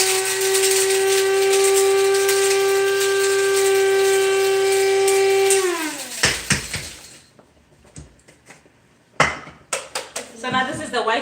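A covered cooking pot boils on the stove, letting out a loud, steady steam whistle and hiss that suddenly cuts off, followed by scattered metallic clanks and rattles of the pot and lid.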